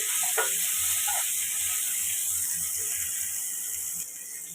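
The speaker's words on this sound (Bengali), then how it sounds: "কাঁচকলাটা আলু নুন হলুদ দিয়ে একটুখানি আগে একটু ভাজা ভাজা করছি" Raw green banana pieces with potato, salt and turmeric fry in a pan, giving a steady close sizzle with faint scraping clicks from stirring, no voices.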